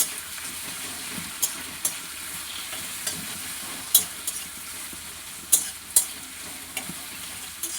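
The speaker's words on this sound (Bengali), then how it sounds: "পেঁয়াজটা একটু ভাজা ভাজা হবে।" Onions fry in a pan for a chicken curry, a steady sizzle running throughout with occasional sharp scraping clicks from stirring, close and moderately loud.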